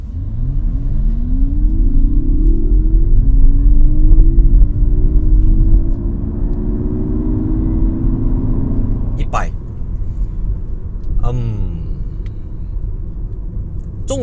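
A 2023 Mazda MX-30 EV with a 35.5 kWh battery accelerating from 0 to 100 km/h, its electric motor whine rising steadily in pitch over road rumble before easing off, close and loud.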